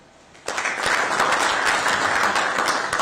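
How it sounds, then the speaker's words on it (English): Applause breaks out suddenly and continues dense and steady from a large crowd at the Chibuku Super Cup live draw, with many hands clapping together and no voices over it. "Let's give him another round of applause"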